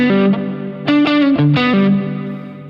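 A distorted electric guitar plays a short lick from a worship song, several sustained, bending notes rendered loud and close with heavy effects, with no talking.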